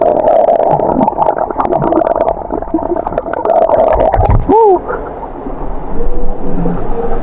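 Diving into cold, clear spring water at a resort pool, heard underwater: a steady muffled rushing drone with bubbling gurgles and a brief warbling tone, loud and close.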